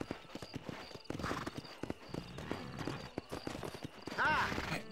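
A horse's hooves clip-clop steadily on the ground in Red Dead Redemption 2, a close rhythmic clatter under someone talking, with a brief whinny near the end.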